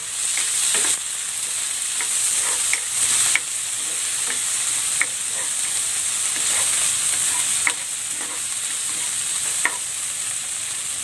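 Tomatoes and onion sauté in a pan with a loud, continuous sizzle, broken by regular scraping stirs and clinks of the utensil at an uneven pace, close by and without talk.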